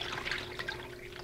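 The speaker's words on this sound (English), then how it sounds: "pour our brine in over the top of the tenderloin in the bag" Brine pours steadily into a bag over a pork tenderloin, giving a soft continuous liquid trickle with a faint hum underneath, close and fairly quiet.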